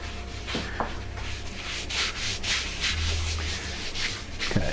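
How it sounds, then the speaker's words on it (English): A cloth or pad rubs sanding sealer onto a wooden live-edge bowl, giving repeated close, scratchy strokes in an uneven rhythm, with a faint low hum of the lathe beneath. "give us a good coat of sanding sealer"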